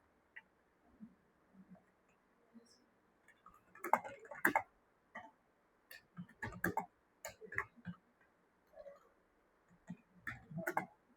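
Typing on a computer keyboard while writing in MS Word, sparse bursts of quiet, close key clicks in irregular clusters with short pauses between, no speech.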